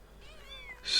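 A kitten in the video game Pentiment gives one short, rising-and-falling meow, soft and close, ending in a brief burst of hiss-like noise, with no talking.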